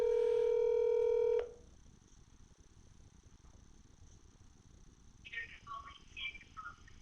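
A telephone keypad dials out a quick run of tones for a call, then a quiet pause before faint chirping sounds on the line.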